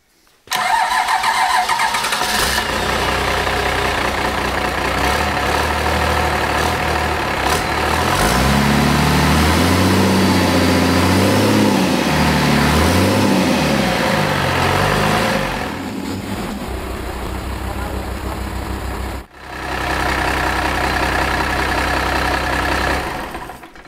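Old car engine that had sat for a long time with stuck injectors cranks and fires, then settles into a loud, close, steady idle with a rough uneven rumble before cutting out near the end.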